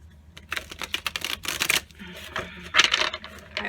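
Oversized Moonchild Tarot cards are shuffled and tapped together in quick, crisp clattering bursts, close and fairly loud over a few seconds.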